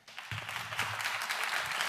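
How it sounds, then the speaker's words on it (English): Modest, somewhat distant applause from a conference audience thanking a departing panelist, Joanna Drake, rising after a brief pause and continuing steadily. "Maybe we can applaud Joanna Drake"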